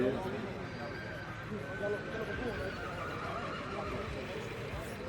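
A horse whinnies amid a noisy outdoor crowd at the Muktsar horse fair, with people talking throughout and a rough background din.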